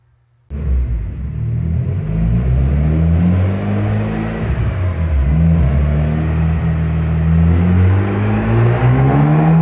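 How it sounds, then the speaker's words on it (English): Mitsubishi EVO X fitted with a new large turbo runs hard on a dyno, a loud, close, sustained engine roar that starts abruptly and climbs steadily in pitch as the revs build. "it's really nice seeing my car on a dyno"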